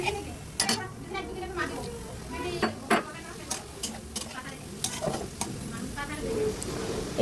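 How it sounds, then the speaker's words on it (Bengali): Prawns cooking with spices in a pan, with a steady low sizzle under scattered spoon scrapes and clinks against the metal, close by, and a voice talking at times. "যে সব মশলাপাতি দিয়ে সুন্দর মতো চিংড়ি মাছটা রান্না করে নিচ্ছি"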